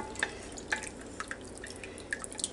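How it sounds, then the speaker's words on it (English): Chicken stock poured into a pot for chicken and dumplings gives soft, scattered drips and splashes, quiet and close, with no voices. "So we'll just pour some of that chicken stock in there."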